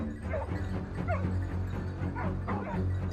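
A hunting dog barks and yips in a snowy forest during a wild boar hunt, the calls sharp and fairly close over a steady low background hum.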